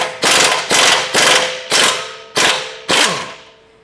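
A 22 wrench loosens a strut bolt during a lift kit install on a Toyota Tacoma, giving six sharp, evenly spaced metallic clicks, each fading quickly, close up and with no talk.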